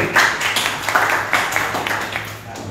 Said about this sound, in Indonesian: Kasih tepuk tangan dulu nih mahasiswa